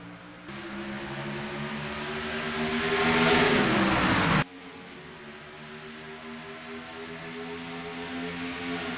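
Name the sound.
race cars accelerating at the green flag start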